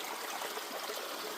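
Water runs steadily through a gold prospecting sluice box on a North Idaho creek, making a continuous close rushing, trickling wash with no pauses.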